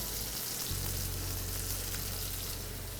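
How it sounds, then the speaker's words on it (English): Onions, garlic and shallots frying in a pan, a steady close sizzle with constant crackle and a low hum underneath, no talking. "I'm going to start to add the onions here, the garlic and the shallots"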